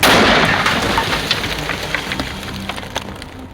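A Rodentator gas charge detonates in a rodent tunnel: one sharp, loud blast at the very start that rolls off into a fading rumble over a few seconds.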